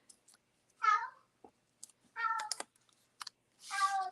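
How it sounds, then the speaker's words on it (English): A pet cat meows several times in a quiet craft room, separate drawn-out calls spaced a second or so apart, with small clicks and taps between them. "Oh, my cat is coming to say hello to everybody."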